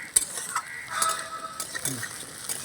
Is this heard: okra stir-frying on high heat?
yes